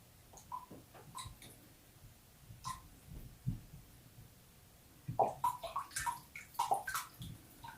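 Liquid is poured into a pot for a vegan pot roast in short, uneven splashing and gurgling bursts that grow busier toward the end, heard close against a quiet room.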